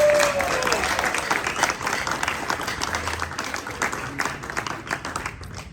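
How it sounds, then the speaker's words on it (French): An audience claps loudly and steadily for three poets from Goma after a performance at a cultural centre in Burundi, the dense applause filling the room and slowly thinning toward the end. "Un maximum d'applaudissements quand même."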